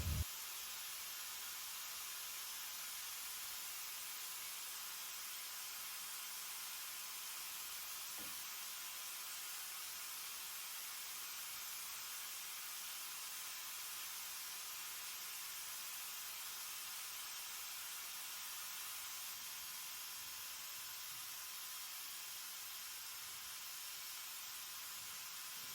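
Continuous, even hiss of a spray gun applying a light coat of finish to a vintage dresser, steady and unbroken throughout with no voices.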